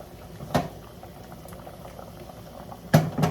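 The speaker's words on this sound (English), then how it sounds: "while this continues to bubble away" A pot of Polish sausage and sauerkraut boils steadily, a soft continuous bubbling and simmering close by, with a couple of louder clinks or knocks breaking through.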